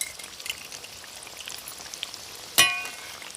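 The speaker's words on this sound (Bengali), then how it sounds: "তো এরকম উল্টে পাল্টে কিন্তু একটু লাল লাল করে ভেজে নেব।" Chicken-stuffed snack pastries frying in a pan of hot oil, a soft continuous sizzle and bubbling with faint crackles, then one sharp sputtering pop near the end, no voices.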